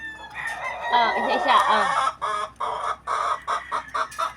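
A gamefowl rooster crows with excited clucking and fowl calls, followed by a series of short squawks, while a person speaks briefly over it.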